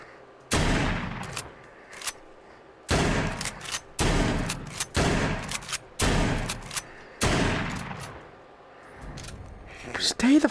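Shotgun blasts in a video game: a rapid series of about half a dozen loud, close booms with long decaying tails, some overlapping, along with shouting voices and a few smaller clicks between shots.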